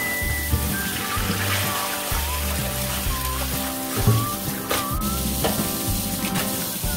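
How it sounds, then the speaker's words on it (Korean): Blanched Korean cabbage is rinsed under cold running water in a kitchen, a continuous splashing and trickling heard over steady background music. "흙이 나오지 않을 때까지 헹궈줍니다."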